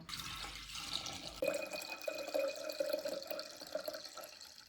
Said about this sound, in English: Then we're going to pour it into a pot that we can keep in the fridge.